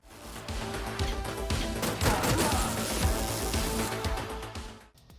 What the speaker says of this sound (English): gunshots and explosions hit hard